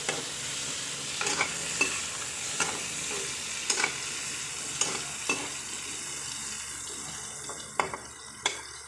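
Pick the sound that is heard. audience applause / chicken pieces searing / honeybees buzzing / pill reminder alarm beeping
chicken pieces searing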